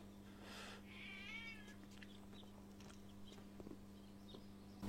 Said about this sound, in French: Un chat noir, très approprié.